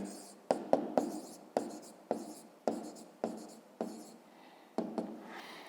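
Chalk or pen strikes out a math solution in a series of short, sharp taps and scratching strokes at an uneven rhythm, close and fairly quiet, with soft speech in the background.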